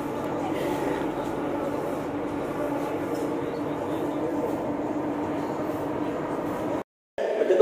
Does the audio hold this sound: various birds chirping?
no